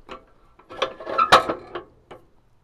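A 5th wheel camper hitch mechanism opens with a quick run of metallic clicks and ratcheting clunks that builds to one sharp, close clack and then fades.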